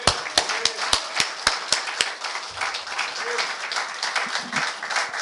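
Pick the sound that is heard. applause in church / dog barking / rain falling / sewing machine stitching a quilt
applause in church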